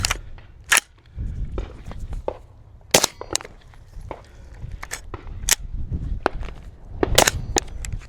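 A suppressed gun fires several sharp, muffled reports spaced irregularly, with cycling clicks and handling noise between shots, the gas setting tuned for a larger suppressor, close and fairly loud.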